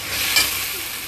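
Spice paste of chili, cumin and onion with a pinch of chili powder sizzles steadily in a pan, a soft continuous hiss with a faint stirring scrape, brief and close.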